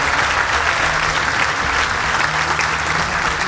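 Steady, dense applause from a comedy show audience fills the whole stretch, loud and close with no break and no talk over it.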